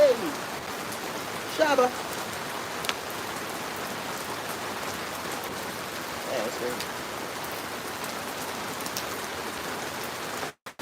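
Steady rain falls outside a pool, a constant soft hiss of drops on surfaces; someone speaks briefly near the start.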